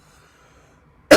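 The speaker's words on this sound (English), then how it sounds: "I'm coughing in my hand because I'm alone." After near silence, one close, abrupt cough into a hand arrives at the very end, loud and short.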